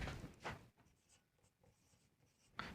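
A pen writes on paper during a financial accounting lesson, with a few short scratchy strokes at the start and end and fainter scribbling between, close and quiet.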